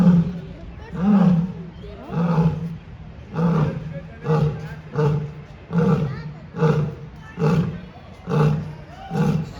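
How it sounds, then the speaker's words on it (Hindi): A lion at Lucknow Zoo gives a series of deep, rhythmic roars, about eight evenly spaced grunting bursts close by, with people murmuring faintly in the background. "शेर को दहाड़ते हुए आप पहली बार देख रहे होंगे।"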